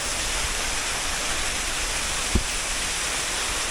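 River water flowing at a mountain spring on Tarak Ridge, a steady, loud, broadband rush that fills the whole clip with a brief knock partway through.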